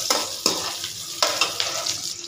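Onion layers sautéed lightly in a pan make a close, bright sizzle, broken by several sharp scraping stirs of a spatula against the metal.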